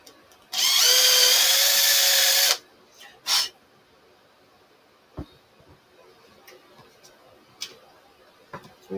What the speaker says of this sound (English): and I drill the hole.